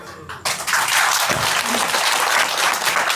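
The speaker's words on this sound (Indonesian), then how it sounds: "Ini tepuk tangannya delay deh" Loud, dense audience applause breaks out after a brief quiet start and continues steadily to the end, with no voices over it.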